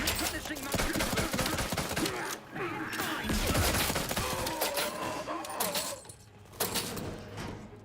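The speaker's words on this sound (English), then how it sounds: "Shooting at me." Enemy gunfire in The Outer Worlds 2, rapid bursts of shots cracking close and loud, with brief lulls between volleys over game background noise.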